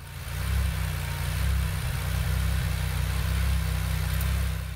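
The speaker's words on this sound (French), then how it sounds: "à l'oreille à charge partielle, il me semble plutôt évident que le moteur produit pas mal de ratés à ce régime" Aston Martin DB7 engine running at part load with frequent misfires, a steady low drone with a slightly uneven, stumbling pulse, recorded close and alone without talk.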